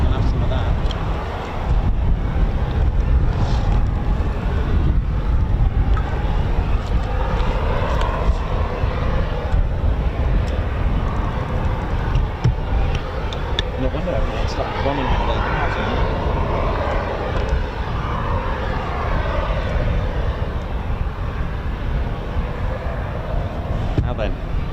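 An MH-47G Chinook helicopter of the 160th SOAR taxis at an RAF airfield, a loud, continuous, broadband rotor and engine rumble with wind buffeting the microphone for the whole stretch.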